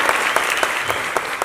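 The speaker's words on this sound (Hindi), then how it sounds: "जोरदार तालियां रोशन के लिए और मोहम्मद सर के लिए।" Loud, dense applause from an audience at a celebrity event, a short steady burst of many hands clapping together with no voices over it.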